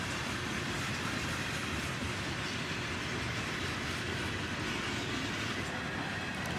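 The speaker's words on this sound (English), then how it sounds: "soon enough, the tail end of the train passes by" A CSX freight train of boxcars, including a clean TTX boxcar, rolls past close by in a continuous loud rumble and rush of wheels on rail with no letup.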